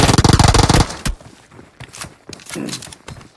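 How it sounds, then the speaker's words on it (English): Gunfire in a competitive battle royale video game: a dense, loud burst of rapid automatic shots up front, one sharp crack after it, then scattered quieter thuds and movement sounds. "Tempo hears the gunshots."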